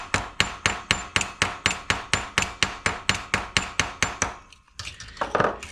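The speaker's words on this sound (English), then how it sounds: "you're supposed to use the ball peen hammer to do this" A small ball peen hammer taps metal on a Vespa P200 in a steady, even series of about fifteen sharp strikes, then pauses before a few softer scraping knocks.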